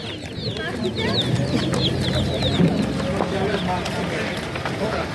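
Chickens cluck and call in a busy outdoor farmyard, a dense continuous chorus of short clucks with scattered higher calls, close and fairly loud, with people talking faintly underneath.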